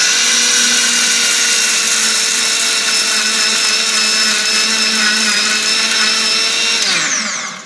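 A kitchen blender grinds sugar into fine powder for cashew ice cream, giving a loud, steady high-pitched whine that runs unbroken and then winds down sharply at the end.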